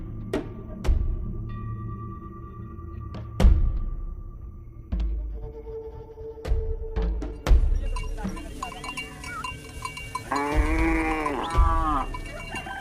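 A herd of about thirty cattle kept in a boma, with loud moos and lowing heard close by among scattered knocks and thuds. Several long calls overlap near the end, and no one speaks.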